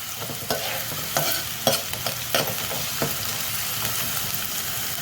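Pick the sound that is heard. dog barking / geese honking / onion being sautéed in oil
onion being sautéed in oil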